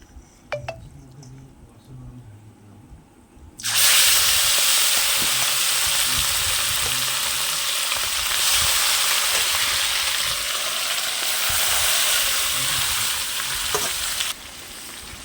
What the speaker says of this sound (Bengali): এখন আমি মেখে রাখা মাংসগুলো ছেড়ে দেবো।